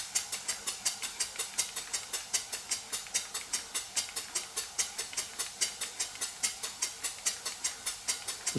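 A model steam engine runs slowly and evenly, each stroke giving a sharp hissing chuff in a steady rhythm of roughly four beats per second, close and clear with no talk.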